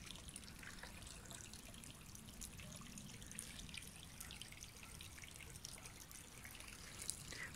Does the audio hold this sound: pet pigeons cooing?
no